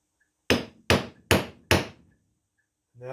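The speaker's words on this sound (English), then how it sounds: "I'm going to take just a small punch and put that in the center." A hammer strikes a small center punch on metal four times in quick, evenly spaced blows, each a sharp ringing tap, close and loud, while making a small table for a grinder.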